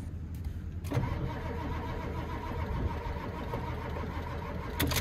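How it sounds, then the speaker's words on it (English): Ford 7.3 Power Stroke diesel pickup engine cranking over on its starter after glow plugs, a steady churning drone running close and loud through the whole stretch with a sharp click near the start and another near the end. "we're gonna see if the batteries are juiced up enough to start here"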